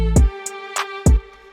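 An 808 bass note with its velocity turned all the way down in FL Studio, played in a short beat where each low note cuts off abruptly instead of ringing, alongside crisp hi-hat ticks and a sustained tone.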